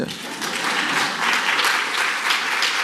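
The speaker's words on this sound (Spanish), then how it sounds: "Gracias, carajo, aplaudan más." Dense, continuous clapping from an education forum audience fills the whole moment at an even level.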